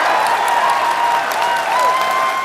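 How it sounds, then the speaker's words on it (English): Audience applause at the Labour Party leadership result announcement, a sustained, dense wash of clapping from a large hall crowd, loud and even throughout. "The reaction of the audience said it all, even if the final number got lost in the sound of applause"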